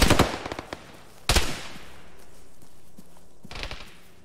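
Machine gun fire from a technical in an Arma game, with a loud opening burst, a second heavy burst partway through and a later rattle, separated by quieter gaps and with no voices.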